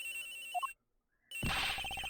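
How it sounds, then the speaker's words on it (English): A telephone rings from inside a locker in Ace Attorney Investigations, a synthesized electronic ringtone with a short tone before a pause, then a loud sustained ringing burst. "The ringing is coming from somewhere in here, sir."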